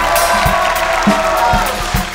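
Parents in a studio audience cheer and clap for their children on a Thai junior cooking competition show, a steady roar of crowd noise with scattered low thumps throughout.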